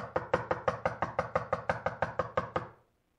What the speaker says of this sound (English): you think it's a knock